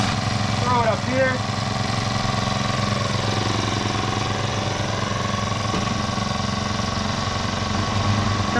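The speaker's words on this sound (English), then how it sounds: "I just need to let it run for, I don't know, maybe 2, 3 more minutes" A Blaze 49cc gas scooter engine idles with a steady buzzing putter close by, and a voice talks briefly over it near the start.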